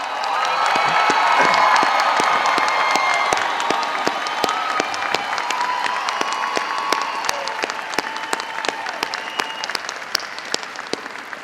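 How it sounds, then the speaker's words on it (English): Large commencement audience at a University of North Texas engineering and science ceremony applauds and cheers new bachelor graduates, a dense roar of clapping with whoops that stays loud throughout and slowly thins toward the end. "I want you to join me in recognizing and applauding the newest bachelor graduates in the universe"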